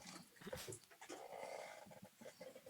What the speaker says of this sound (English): Come on, my dog wants to say hi.